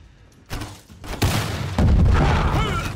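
Siege weapon in Conqueror's Blade during a castle siege, letting off several heavy booming launches and impacts that build in loudness over a few seconds, with rumbling debris between.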